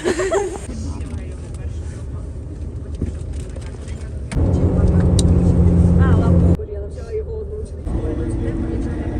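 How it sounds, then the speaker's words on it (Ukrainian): A bus engine drones and rumbles steadily, swelling louder for a couple of seconds mid-clip before settling back to a lower hum, while people talk over it. "Так, наш автобус."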